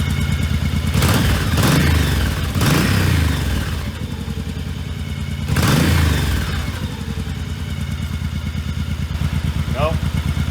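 A 1985 Honda Shadow motorcycle engine runs nearby, with revs rising and falling in surges and mechanical clatter, and a voice speaks at times over it.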